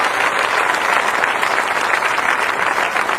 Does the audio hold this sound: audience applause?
yes